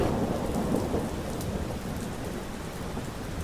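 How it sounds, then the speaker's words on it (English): A night thunderstorm with steady heavy rain pattering on surfaces and a low rumble of thunder, a continuous dense wash of sound with no voices. "so there's a storm brewing."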